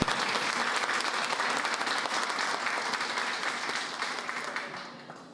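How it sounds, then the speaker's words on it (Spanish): Sustained applause from an audience at a municipal local history presentation event, dense and steady clapping that fades out near the end, with no talk over it. "Fuerte el aplauso."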